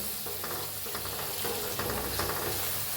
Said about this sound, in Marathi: मसाला चांगला भाजायला लागलाय आपला